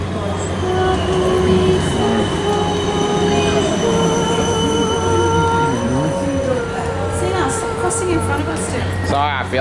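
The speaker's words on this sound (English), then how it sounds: "It's a tram." A tram rumbles past with squealing wheels and metallic screeches over a steady low drone, while people talk nearby.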